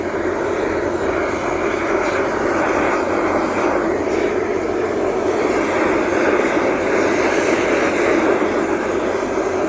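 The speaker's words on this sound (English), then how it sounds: "Sorry about the air compressor being on." An air compressor runs nearby with a loud, unbroken mechanical drone and hiss that stays steady from start to finish, with no voices.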